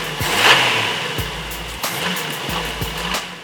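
A 1989 Jeep Wrangler's carbureted 4.2-liter inline-six running near the microphone, a steady, throaty low rumble with a few brief rises in revs and no voices over it.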